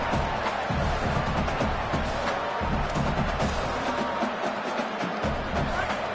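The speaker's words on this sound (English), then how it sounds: "It's early, but this crowd is fired up. Listen to this noise here." Stadium crowd roaring steadily at a college football playoff game between Texas Tech and Oklahoma State, a dense, continuous wall of cheering with no pauses.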